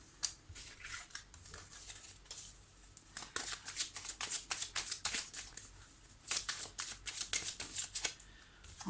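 Tarot cards being shuffled by hand in a series of riffling, crackling bursts with short pauses between them, close and fairly clear, with no talking.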